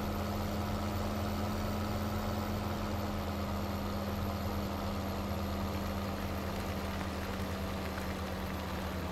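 Tractor engine idling steadily during grain unloading from a combine into a truck on a farm, a constant low drone that stays even and unbroken throughout.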